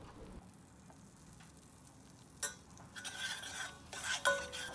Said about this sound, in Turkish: Unun çiğ kokusu gidene kadar yağla beraber kavuruyorum